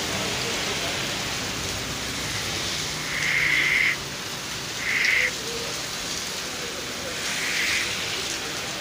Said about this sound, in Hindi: तो बारिश शुरू हो चुकी है।